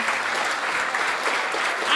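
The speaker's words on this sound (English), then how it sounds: "Come on, big applause for them." Sustained audience applause fills the hall at a film festival awards ceremony, a dense, steady wash of clapping held at even loudness throughout, with no talk above it.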